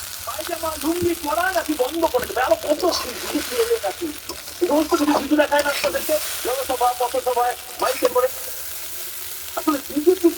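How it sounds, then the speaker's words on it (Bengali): Chicken chow mein noodles being stir-fried and tossed in a pan crackle and sizzle throughout, with stirring scrapes, while someone talks over it almost continuously. "আমরা চাউমিনটাকে এরকম উল্টে পাল্টে ভেজে নেবো।"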